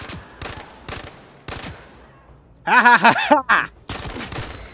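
Shots crack out in a virtual-reality shooter as targets fire back, with quick repeated reports spread across the moment. Someone shouts and laughs loudly in the middle of it.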